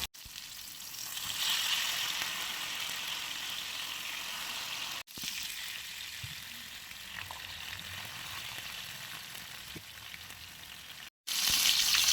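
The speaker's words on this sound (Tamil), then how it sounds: "இது மாதிரி தேங்காய் பாலில் நம்ம ஊற வச்சு இந்த மீனை பொறிக்கிறப்ப" Kola fish soaked in coconut milk fries in a pan with a continuous close sizzle, briefly cut off twice, then returning loudly; no one speaks.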